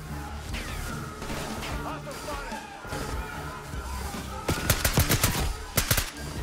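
Gunfire in the Call of Duty: Black Ops 6 campaign on veteran mode, with rapid sharp bursts of shots clustered near the end over dense, busy game ambience and crashes.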